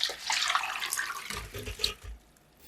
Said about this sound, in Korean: 물에 두세 번 흔들어 씻은 다음 물기를 빼주세요